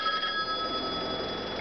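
An indoor telephone rings steadily with a sustained electronic tone for under two seconds, fairly faint and with no voices over it.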